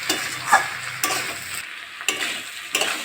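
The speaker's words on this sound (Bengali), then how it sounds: "এবার হলুদ দিয়ে দেবো, লবণ দিয়ে দেবো, ভালো করে এটা ভাজবো।" Potatoes, flat beans, spring onion and beetroot fry with turmeric and salt in a pan, a steady sizzle broken by regular scraping stirs about every half second, close and without speech.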